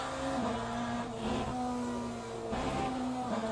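A BMW M Hybrid V8 LMDh race car engine in a racing video game, droning at a steady high pitch, with brief dips and rises as it shifts, constant and fairly close, with no voices.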